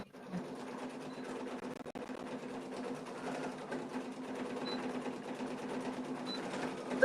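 An embroidery machine stitches the long outer satin stitch border of a mug rug design, a steady rapid mechanical whir with a constant hum, close and fairly quiet.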